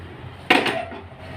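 A metal lid set down over a pot on a gas stove while Kerala-style raw banana erissery cooks, giving a single close clattering clink with a short metallic ring afterward.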